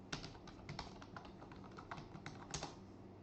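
Username and password entered on a computer keyboard during a Windows Server 2019 login: quick, irregular key taps, close and quiet, with no talking.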